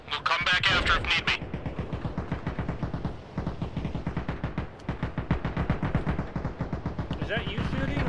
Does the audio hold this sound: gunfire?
yes